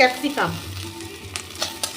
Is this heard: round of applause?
no